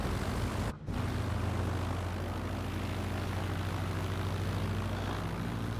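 A T-6 Texan's radial propeller engine idles steadily while taxiing in Microsoft Flight Simulator, a constant low droning rumble with a brief dropout near the start.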